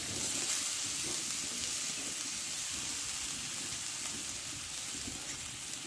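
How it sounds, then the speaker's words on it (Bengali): Grated potato and carrot sizzling in an oiled pan, a soft, steady, rain-like frying hiss that holds evenly throughout at low volume, with no talking. "দিয়ে গ্রেট করা আলুটা আমি দিয়ে দেবো আর দেবো গ্রেট করা গাজর"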